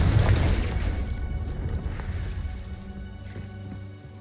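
A Confringo blasting spell explodes in Hogwarts Legacy, a deep booming blast with a rumbling tail that slowly fades under a faint pattering ambience.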